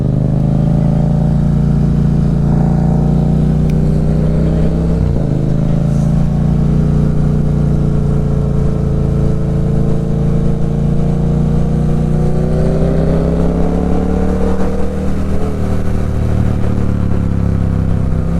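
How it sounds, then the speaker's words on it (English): A Honda CBR650R and a Yamaha MT-07 motorcycle pull away from traffic lights, their engines loud and close, revving and rising in pitch through gear changes with a brief drop around the middle, and no speech. "Silly loud bike"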